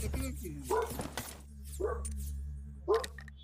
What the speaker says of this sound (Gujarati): કૂતરો ડિસ્ટર્બ કરે છે મને